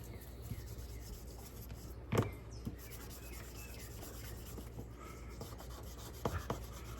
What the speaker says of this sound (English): I try to always sand in the same direction